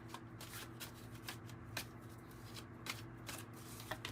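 An oracle card deck is shuffled by hand in repeated quick riffling bursts, soft and close, with short pauses between passes.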